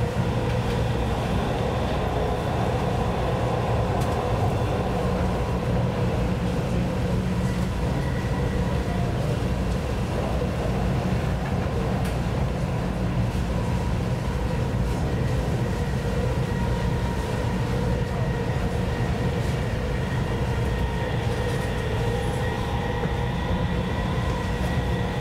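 Dubai Metro train running between stations, heard from inside the car: a loud, continuous rumble and whine of wheels and motors holding steady throughout with no talk.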